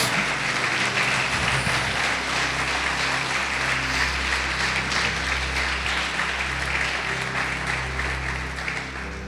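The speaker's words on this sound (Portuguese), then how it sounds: "Vamos aplaudir Jesus." A church congregation applauds steadily, a thick continuous wash of many hands clapping over a low sustained hum, fading slightly near the end.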